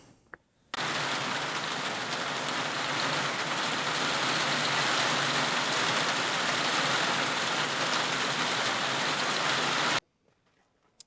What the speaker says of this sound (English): Well, that was another flash of rain.